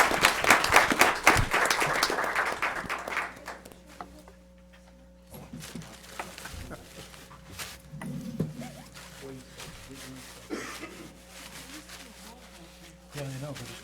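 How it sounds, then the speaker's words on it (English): Applause at a board meeting, a burst of loud clapping for a few seconds that fades out, then quieter room sounds with a steady hum and people talking. "Let's give her a good round of applause."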